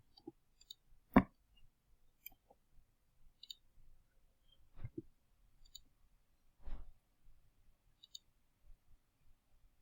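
Sparse computer mouse clicks, several sharp isolated clicks spread irregularly across a quiet background, near and fairly crisp, with no talk.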